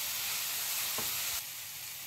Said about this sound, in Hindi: इसको मैं कुछ सेकंड के लिए और भूनूंगी ऐसे ही बिना ढके।